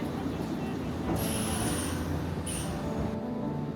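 A Nankai limited express Southern train pulls into a station platform, a steady low rumble with two brief high-pitched squeals of brakes or wheels partway through.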